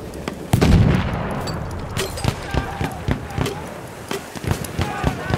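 A single sharp sniper rifle shot rings out in a Battlefield 1 match, followed by scattered distant gunfire and footstep-like thumps with game sound effects behind.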